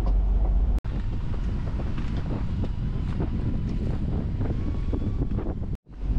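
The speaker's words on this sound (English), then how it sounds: "Be good to know how much wind gust that is" Gusty wind buffeting the microphone aboard a sailboat, a loud, continuous roar with two brief dropouts and no one speaking.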